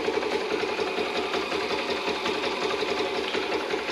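A motorcycle engine idles with its original exhaust, a fast even ticking putter, close and steady with no talk.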